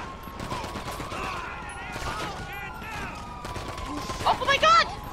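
Gunfire in Grand Theft Auto 5 during a street shootout, a scatter of sharp shots mixed with game clatter and chatter, ending in a louder cluster of bursts.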